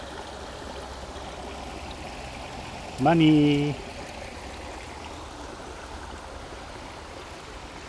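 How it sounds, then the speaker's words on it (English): Steady rushing of a very small forest waterfall fills the scene from start to finish, with a single brief spoken word partway through. "There's even a very tiny waterfall."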